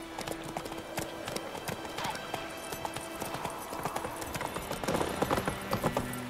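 Horse hooves clip-clopping at a steady walking rhythm in The Witcher 3 video game, close and fairly loud, with a voice urging the horse on over the game's ambient background.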